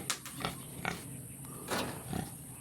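Pigs oinking and grunting on a pig farm, several short bursts scattered across the moment, fairly near, over steady background noise with no talk.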